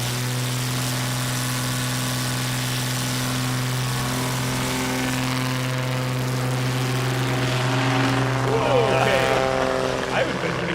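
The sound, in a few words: STOL aircraft engine during takeoff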